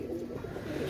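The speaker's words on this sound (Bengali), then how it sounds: "এক জোড়া হচ্ছে সাকিরেডি কবুতর" Sakhi teddy pigeons coo softly in a brief, faint murmur against steady background noise.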